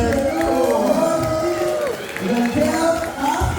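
Crowd applause and cheers greet a woman called up to the stage at an arts event, a steady roar of clapping running under a host's loud talking.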